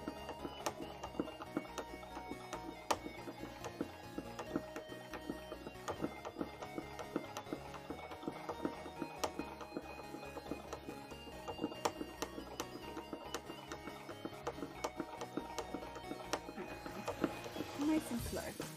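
An embroidery machine stitches a cosplay piece in its hoop, going back over spaces it missed before, with a steady rapid mechanical ticking running throughout under a voice talking.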